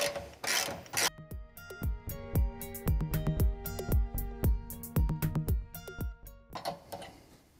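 A hand ratchet backs out 10 mm bolts on the amplifier of a 2010–2015 Lexus RX350, sounding a close series of crisp metallic clicks in quick, uneven bursts.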